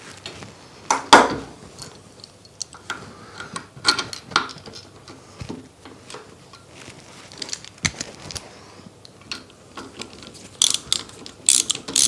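Ratchet clicking as bolts are tightened while mounting a workbench vise, loud nearby metallic ratcheting in irregular runs mixed with clanks and rattles of hardware, no talking.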